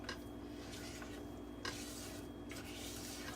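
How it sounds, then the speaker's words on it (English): Salt playdough mixture is stirred continuously in a pan on a burner at medium-low heat, a soft scraping and rubbing under a faint low sizzle, repeating every second or so. "you just want to stir it continuously until it starts looking like Play-Dough"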